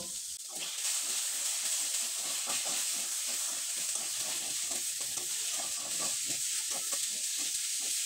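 Potato filling with coriander leaves being stirred in a pan, giving a continuous hissing sizzle with a rapid rhythmic scraping of a spatula, close and steady throughout.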